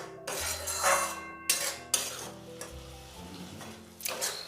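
Spiced masala with Kashmiri chili powder fries in a pan for prawn malai curry with potatoes, a spoon scraping and clinking against the metal over a soft sizzle, in several close, separate strokes.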